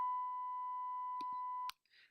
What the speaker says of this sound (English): sine waves and noise waves that can be created.